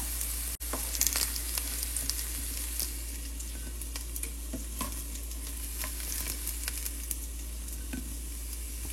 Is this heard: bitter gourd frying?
yes